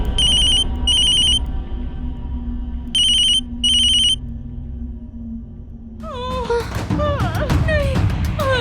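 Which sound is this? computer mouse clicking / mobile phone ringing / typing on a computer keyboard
mobile phone ringing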